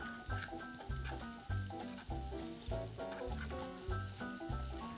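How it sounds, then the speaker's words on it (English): Baked potato and carrot chips are tossed in a pan, a soft rhythmic shuffle and sizzle repeating about once a second, close and quiet, with no talking. "all we're doing is just quickly tossing it so we get all our flavors on the chips"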